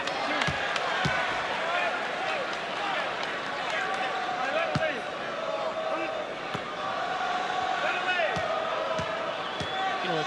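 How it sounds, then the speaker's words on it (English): A large arena crowd at a 1986 Chicago Bulls at New York Knicks basketball game yells Michael at Jordan, a dense sustained roar of voices with sharp ball bounces and thuds scattered through it. "It may sound like the fans are taunting Jordan, yelling Michael"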